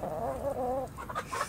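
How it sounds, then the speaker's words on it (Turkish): Soft, repeated clucking from a nearby chicken, a few short warbling calls followed by brief higher clucks, with no talking. "Şu mesela tavuk. Bu da horoz."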